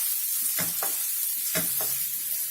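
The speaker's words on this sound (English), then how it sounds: "And then goes in our diced potatoes. We give all of this a good mix" Chilies and diced potatoes fry in a pan for a vegetable bhaji while a spoon stirs them, giving two pairs of scraping strokes over a constant, close hiss of sizzling oil.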